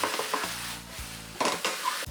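Cabbage stir-fried in a nonstick coated pan over steady heat, a continuous sizzle broken by bursts of tossing and scraping at a brisk, uneven pace, close by with no voices.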